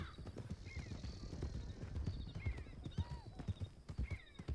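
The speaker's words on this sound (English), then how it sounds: "When I hear the wild horses" Wild horses in Red Dead Redemption 2 gallop past with rapid, close hoofbeats drumming throughout, while several high whinnies and neighs ring out over the galloping.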